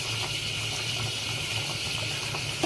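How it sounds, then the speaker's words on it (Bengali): Katla fish boiling in a pot of water with turmeric and salt, giving a steady, close bubbling rush with a low hum underneath and no talking. "কাতলা মাছগুলোকে ভালো করে সেদ্ধ করে নিচ্ছি"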